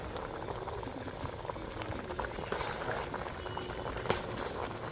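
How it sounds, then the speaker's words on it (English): Water for mango achar with beetroot as colouring boils hard in a pot on high heat, a steady, dense bubbling and popping that carries evenly throughout with no voices. "I'm putting this guy on a high heat right now, just to boil down the water really quickly."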